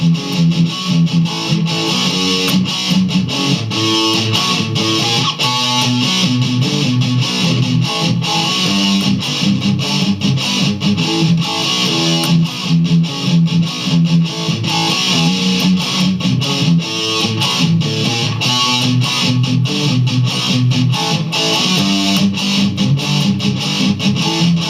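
Distorted electric guitar plays a palm-muted rhythm riff on the fifth string, with fast, chugging, tightly repeated notes that stay loud and dense throughout; no talking.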